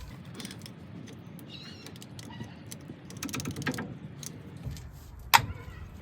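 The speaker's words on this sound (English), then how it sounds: "just put a screwdriver in there. And it'll literally pop off." Screwdriver prying a stuck brake part off a 1988–1998 Chevrolet Silverado C1500 in a quiet workshop, faint metallic creaks and scraping clicks, ending in one sharp snap as the part pops free.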